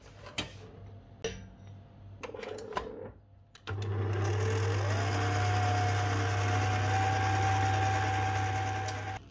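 An electric mixer whirs steadily through orange honey cake batter, starting up after a few clinks of bowl and utensils and then holding a loud, even motor hum at close range.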